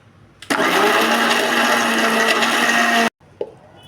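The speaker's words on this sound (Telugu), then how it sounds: "ఇప్పుడు దీని మొత్తాన్ని మిక్సీ వేసేసుకున్నాం" A mixer grinder grinding garlic chutney spices with coconut whirs loudly and steadily for about two and a half seconds, then cuts off abruptly, followed by a brief clatter.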